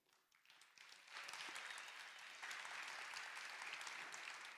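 Applause from an audience honoring a man named Don, starting lighter and swelling into steady, full clapping that continues throughout.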